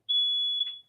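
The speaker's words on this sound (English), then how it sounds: "Bear with me, that's my fire alarm." A home smoke or fire alarm gives one loud, sustained high-pitched electronic beep lasting most of a second, heard alone with no talk over it.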